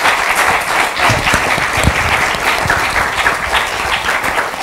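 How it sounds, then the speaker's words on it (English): Steady, dense audience applause for speakers at a sculpture talk, continuous clapping from a crowd filling the space at even loudness without pause. "So let's give them a round of applause."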